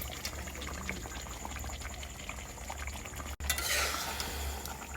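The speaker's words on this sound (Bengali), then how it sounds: "আমি এখন ম্যারিনেট করে রাখা মাংসটা দিয়ে দিব।" Marinated chicken tipped into a pan of spice paste being fried for chicken pulao, with a steady close sizzle and bubbling that swells into a louder hiss as the meat goes in.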